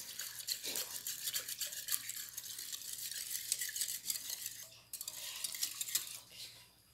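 Sugar is stirred into cake batter in a bowl, a close, continuous wet scraping with a quick rhythm that pauses briefly near the end.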